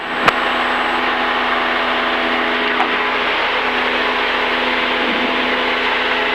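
A light aircraft's engine runs at fairly high RPM during an IFR flight, a steady, droning cockpit hum heard close and constant, with a faint click near the start.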